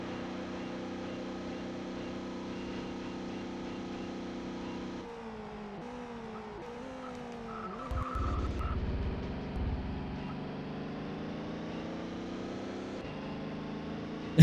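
Touring race car with broken suspension in the ToCA World Touring Cars racing game, its engine droning steadily with shifts in pitch, a rough scrub and skid partway through, and a sharp knock at the end, with no talking.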